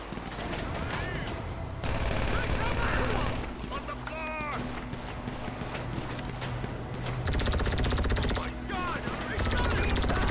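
Gunfire in the online game GTA V, repeated bursts of shots through the whole stretch, loud and dense with a steady game soundscape underneath, while players talk over it.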